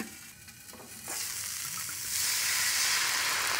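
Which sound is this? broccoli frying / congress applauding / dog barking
broccoli frying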